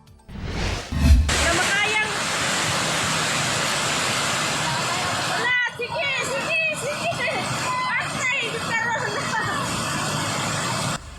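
Floodwater rushes along a street during heavy rain in Mindanao, with motorists driving through the current. A loud, continuous broadband roar of churning water fills the clip, and a voice talks over it in the second half.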